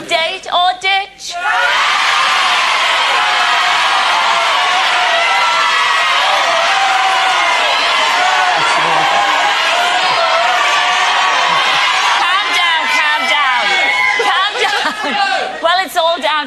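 A studio audience at a dating game show yells, whoops and cheers as one loud, sustained crowd roar after a brief opening, with shouted voices mixed through it.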